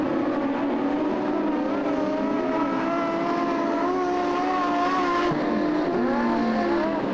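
Modified sedan race cars roar around the dirt oval at Lismore Speedway, a continuous loud engine drone with shifting pitches as several cars race close together, no voices over it.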